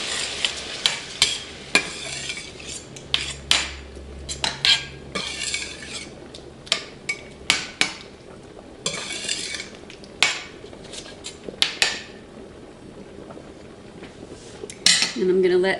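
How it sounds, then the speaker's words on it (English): Canned diced tomatoes go into a pan of shrimp pasta sauce and get stirred, with repeated clinks and scrapes of a utensil against the pan over a soft sizzle, close and steady with no talk. "I'm going to add 3/4 of a can of the diced tomatoes"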